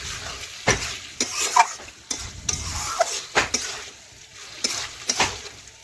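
Chicken cooking in a pan is stirred with a utensil, a series of distinct scraping strokes and clinks against the pan over a soft sizzle, close and fairly loud, with no one talking.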